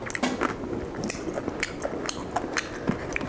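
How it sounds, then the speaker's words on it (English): Crispy air-fried pork belly skin crunching in close bites, a quick series of sharp, brittle cracks and chews at an irregular pace with faint clinks of cutlery, no talking over it. "Oh, you hear that? So crispy."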